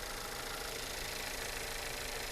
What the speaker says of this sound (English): Sounding like a normal VW engine.